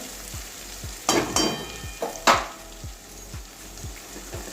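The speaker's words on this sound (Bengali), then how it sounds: "ঢাকা দিয়ে গাজরটা ভাজছি।" Carrots sizzle in a hot covered pan with a soft steady hiss, broken by a few sharp scrapes and clatters of stirring.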